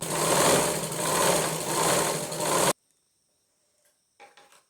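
Sewing machine running steadily while stitching a double line of fabric seam, a loud close mechanical whir that stops abruptly, followed by near silence and a few faint handling sounds.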